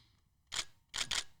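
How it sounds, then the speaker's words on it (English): A camera shutter clicks three times, close and crisp: one single release, a short pause, then two quick clicks in succession. "Give us a couple shutter sound effects."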